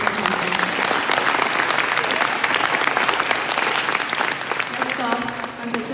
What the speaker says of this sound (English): Let's give a round of applause to Filippo Fonseca